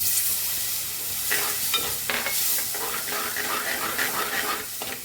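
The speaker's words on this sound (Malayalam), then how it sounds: "എന്നിട്ട് അല്പം വെള്ളം ഒഴിച്ചു കൊടുക്കാം" Water poured into hot oil with chilli and fenugreek powder, giving a steady close sizzle with bursts of hissing and light stirring scrapes that carry on throughout.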